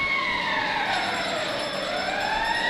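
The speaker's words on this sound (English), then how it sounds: "The siren sounds again." A loud arena siren at an ice hockey game wails continuously after a goal, its pitch sliding slowly up and down, steady and prominent with no voices.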